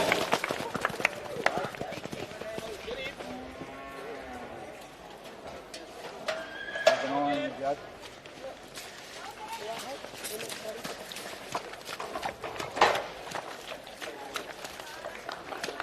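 At a campdraft in the central west of New South Wales, a horse gallops with steady pounding hoofbeats and an occasional whinny, with a commentator talking over the arena sound.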